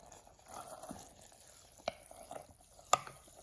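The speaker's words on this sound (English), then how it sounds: "And I'm continuing to stir." Glutinous rice red wine mash made with red yeast rice is stirred slowly in a vessel, faint soft wet swishing with two sharp clinks of the utensil against the container.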